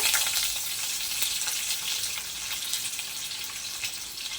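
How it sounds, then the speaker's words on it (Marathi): Curry leaves fry in hot oil for a Konkani dried-clam curry, giving a steady, close hiss of sizzling that runs unbroken throughout with no voices. "कढीपत्ता सुद्धा चांगला तेलावर दोन मिनिट फ्राय झाल्यानंतर"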